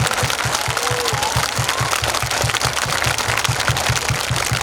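Rally crowd clapping hard and continuously, a dense wash of applause over a steady low thumping beat, loud and unbroken throughout.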